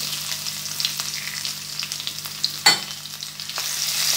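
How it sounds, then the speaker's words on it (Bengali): Crushed garlic cloves drop into hot oil with panch phoron while cooking Malabar spinach seeds, giving a close, crackling fry that flares into a sudden hiss about halfway through, with stirring scrapes over the steady sizzle. "এবার 6 কোয়া রসুন আমি থেতো করে নিয়েছি, এটা দিয়ে দিলাম"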